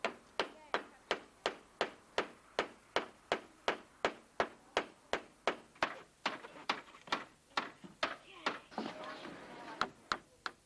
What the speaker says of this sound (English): Hammering a nail is a small matter compared with putting on a roof